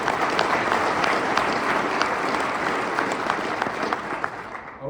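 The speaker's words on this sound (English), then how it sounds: "Round of applause for Peyton." Sustained audience applause at an awards luncheon, dense clapping from a crowd, steady and fairly loud, tapering slightly toward the end.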